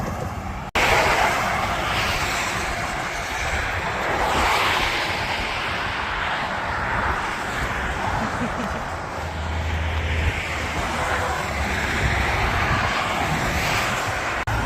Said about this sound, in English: The traffic's pretty fast.